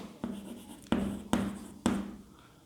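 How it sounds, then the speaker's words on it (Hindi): Chalk or marker strikes a board during a class 10 trigonometry maths lesson, four sharp taps followed by short scratchy strokes, close and fairly quiet, with no voice over them. "लिखेंगे, यहाँ लिखता हूँ"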